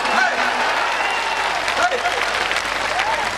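Audience applause at a poetry recital, dense continuous clapping from a large crowd throughout, with voices faintly mixed in.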